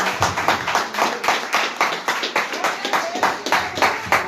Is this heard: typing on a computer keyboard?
no